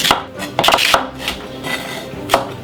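A knife cuts potatoes on a board for a merguez burger, sounding as a handful of sharp, close chops spaced irregularly over light kitchen clatter.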